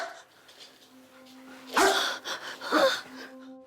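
A dog barks twice, sharply and close by, with a short gap between the barks, over a faint steady hum in a quiet room.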